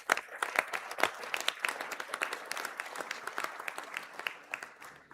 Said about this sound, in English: could we please give all those graduates a round of applause?